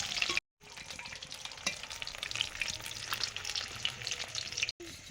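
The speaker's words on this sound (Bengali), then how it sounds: "মাছগুলো ফ্রাই হয়ে গেল" Pieces of marinated fish sizzle and crackle as they fry in hot oil for fish kabiraji, a dense, steady close-up hiss with a brief cut near the start and end.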